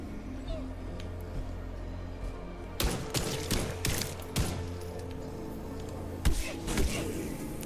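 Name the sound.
gunshots in the video game Enigma of Fear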